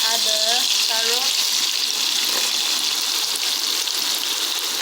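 Steady sizzling from a frying pan as carrot is added to hot oil with garlic, a continuous crackling hiss throughout, with brief voices or clinks near the start.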